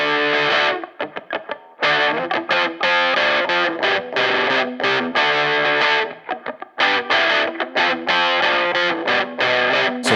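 An electric guitar plays through a distortion pedal cranked to full gain, producing a loud, thick, saturated tone with chugging strummed chords and brief pauses between phrases, heard alone.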